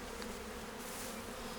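Honey bees buzz in a steady, dense drone from an opened hive frame at close range, a continuous hum with no voices.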